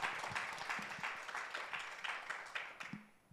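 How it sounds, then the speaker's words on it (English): A modest round of applause from the audience at a public service media symposium panel, moderately close, with individual claps audible as it thins out toward the end. "I think we can give a round of applause to our panelists."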